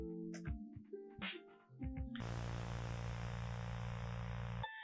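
An analog horror soundtrack sets a buzzing sawtooth wave over a pink noise hiss; after choppy electronic blips it settles into a loud, steady droning hum that cuts off abruptly at the end.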